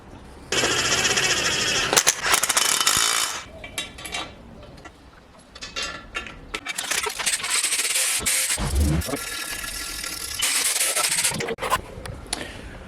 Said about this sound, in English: go ahead and pull all these dang studs out of here because as we now know,